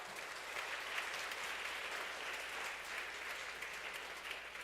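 A congregation at a Sunday church service claps in steady, sustained applause, heard from a distance and fairly quiet.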